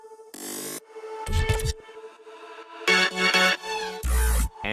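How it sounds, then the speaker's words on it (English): Electronic drop effects from an EDM track, a run of loud synthetic bursts: a bright sustained tone, sharp stuttering hits, then dense layered blasts with deep bass thumps near the end. "And then I have these drop effects."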